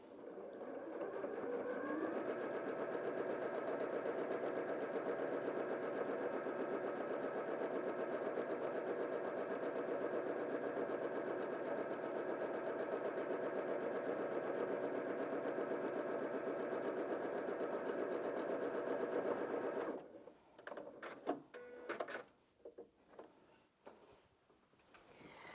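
A Janome M100QDC sewing machine runs at a steady, fast stitching pace for about twenty seconds, a continuous close mechanical whir, then stops and gives way to a few scattered handling clicks and knocks.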